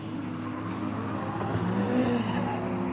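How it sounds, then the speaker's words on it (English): Drift cars at Ebisu Circuit in Japan warm their tyres before a qualifying run, making a continuous engine roar with revving and tyre squeal that rises slightly toward the end. The sound is moderately distant, with no voices. "these guys just warming their tyres up before their qualifying run"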